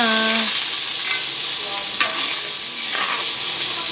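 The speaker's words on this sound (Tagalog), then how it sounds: "Luya natin bawang. Gisa-gisa na natin yan." Ginger and garlic sautéing in oil in a pan, giving a loud, steady sizzle with a few stirring scrapes close by and no talking.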